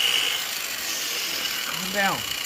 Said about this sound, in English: they make these little teeny weeny skinny cutoff discs that do wonderful when it comes to cutting sheet metal really fast